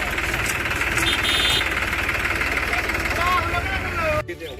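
A tractor engine runs close by with a rough, knocking idle that holds steady before cutting out abruptly near the end, while people talk over it.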